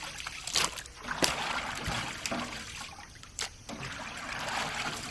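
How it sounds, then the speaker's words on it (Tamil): Water trickles and splashes as it is drained off during the cleaning of chicken in a South Indian home, faint and uneven with a few sharper splashes and pours. "தண்ணி வடிச்சுடுறோமே."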